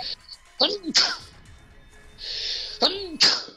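Two sharp sneezes ring out about two seconds apart in the video game Zero Escape: Virtue's Last Reward, with a short breathy hiss between them and no talking.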